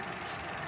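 An engine idles with a steady rumbling drone and faint knocking texture, close and continuous, no voices.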